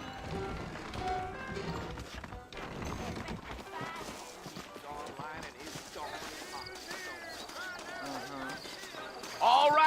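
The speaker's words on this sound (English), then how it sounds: "I got the horses saddled up and ready out front." Horse hooves clip-clop in a steady trotting rhythm in Red Dead Redemption, fairly faint beneath ongoing voices and background music.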